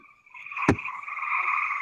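Frogs croak outdoors at night in a steady, loud chorus of many voices at once, broken by one sharp close thump partway through.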